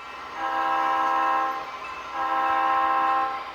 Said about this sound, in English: You see the lead engines preparing to back up and pick up their cars.